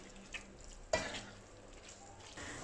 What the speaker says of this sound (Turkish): Ve şimdi güzelce karıştıracağım.